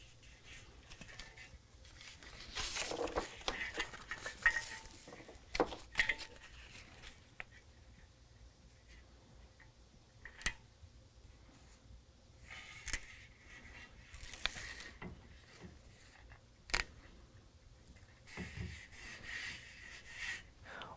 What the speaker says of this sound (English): go ahead and stick it to the rail itself